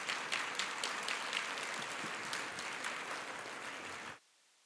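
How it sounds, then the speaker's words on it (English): Audience applause at a Project Goodwill community gathering in Fort Worth, a dense steady wash of many hands clapping that carries for about four seconds and then stops abruptly. "I think that deserves a round of applause."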